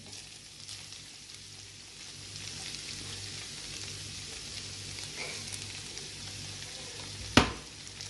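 Onion frying in a pan for samosa filling, a steady close sizzle running throughout with a sharp clack of a utensil near the end.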